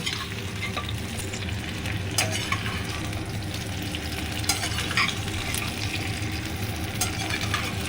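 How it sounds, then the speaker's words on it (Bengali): Dried jujubes sizzle steadily in hot oil with tempering spices for a Bengali sweet-sour jujube pickle, a close, continuous frying hiss broken by a few sharp crackles and the scrape of stirring. "এবার কুল ফোড়নের সঙ্গে খুব ভালোভাবে ভেজে নেব"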